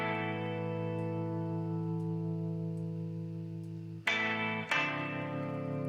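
A beat plays through a Luscious Liquid reverb on a send bus in Presonus Studio One 5, with sustained tonal layers that shift abruptly twice near the end and no speech.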